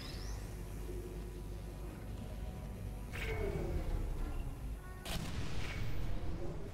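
An automated turret in Portal 2 fires in heavy booming bursts, two loud sharp blasts standing out over a constant low rumbling background, with no voices heard.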